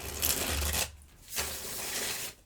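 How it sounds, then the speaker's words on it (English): A tarot card deck being shuffled close up, two long bursts of riffling and sliding cards separated by a brief pause. "I'm going to start shuffling the tarot deck."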